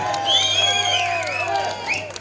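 Crowd at a Pongal festival stage event honouring guests at a temple, cheering and whooping with shrill voices and scattered applause, loud and sustained throughout with a swell near the start.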